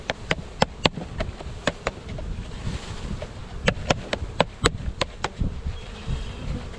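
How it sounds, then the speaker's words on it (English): A dense, loud buzzing of about 3 pounds of honeybees being installed into a hive fills the clip, punctuated by sharp knocks and clicks from handling nearby. "And now we put in the rest of the bees"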